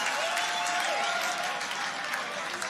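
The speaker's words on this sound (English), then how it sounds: "make some noise for the boys. Give it up for them." Loud, dense applause and cheering from an audience at the Grand Beatbox Battle 2019 semifinal, continuous for the whole stretch after a beatbox battle round.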